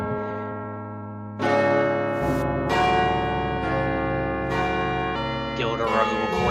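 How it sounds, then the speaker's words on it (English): School bell ringing out between classes with repeated resonant strikes, each leaving long overlapping metallic tones that sustain loudly throughout. "I'm about to murder whoever's ringing that damn bell"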